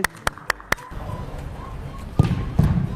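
A football is kicked hard in a shooting challenge, producing a few sharp thuds in quick succession followed by noisy movement and excited crowd sounds.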